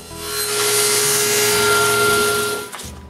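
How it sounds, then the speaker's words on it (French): A power saw cuts the straight edges of glued wooden moulds in a woodshop, a loud, close, continuous whining cut lasting about three seconds before the blade pulls free and the noise drops off. "je coupe les bords droits"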